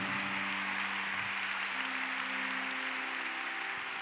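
A church congregation applauds loudly and steadily throughout, a dense wash of clapping with faint sustained musical tones underneath.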